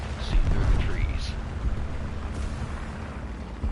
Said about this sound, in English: Well, that's gonna be a big explosion.